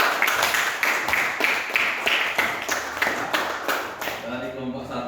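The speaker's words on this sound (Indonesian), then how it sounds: "Oke, tepuk tangan untuk kelompok 2." A classroom group gives rhythmic, fairly loud clapping in steady beats that stops abruptly just before the end, with voices present.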